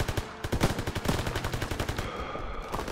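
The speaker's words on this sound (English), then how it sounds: "MGs, open fire." Machine gun fire in the Call of Duty WW2 campaign, loud rapid bursts of rhythmic gunshots that continue throughout, layered with dense battle noise.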